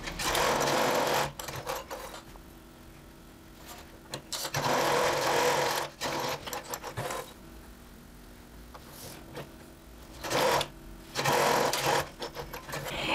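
Sewing machine stitching a blouse cuff in bursts, a loud close mechanical whir that starts and stops with pauses between, several stitching runs in a row without talk.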